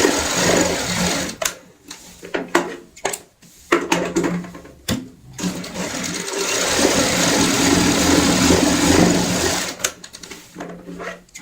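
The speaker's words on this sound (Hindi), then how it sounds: "अब हमें हर निशान के ऊपर सिलाई लगानी है।" A sewing machine stitches a pillow cover in short runs, its rapid mechanical whirring starting and stopping repeatedly before one longer continuous stretch, close and clear.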